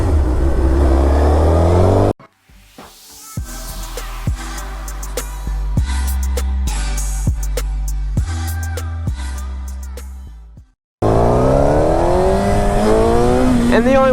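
A 1000cc supersport motorcycle ridden on wet, rainy roads accelerates hard through several stepped gear changes, the engine note climbing and dropping between shifts, loud and close, with talking before and after the run.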